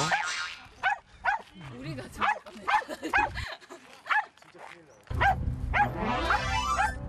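A Spitz dog that habitually barks and lunges at other dogs outdoors gives sharp, repeated barks and yips in quick bursts, close and loud, with some whining and a louder burst of barking near the end.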